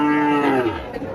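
A local-breed bull weighing about seven maunds, with two adult teeth, at the Taherpur cattle market gives one long, loud, close moo that fills the moment on its own.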